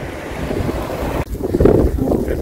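Heavy wind buffets an open microphone on a motorcycle ride along Needles Highway in the Sturgis area, a rough low roar with gusty surges and a brief drop midway.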